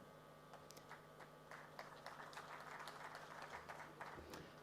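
An audience at a communications suppliers conference in Uganda claps, the scattered patter of hands staying faint and distant and building slightly across the clip.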